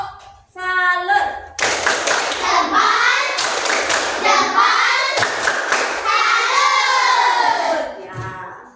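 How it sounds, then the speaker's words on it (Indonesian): A class of children performs a rhythmic clap-and-chant routine, quick hand claps followed by loud shouted group chanting in a classroom, with a teacher's voice briefly before. "Diulang lagi, kurang semangat ya. Tepuk salut."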